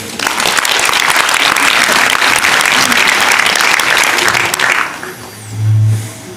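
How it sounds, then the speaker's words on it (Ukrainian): Audience applause at a Ukrainian community hall event: loud, dense crowd clapping that fades out near the end, followed by a brief low hum. "Вітайте оплесками."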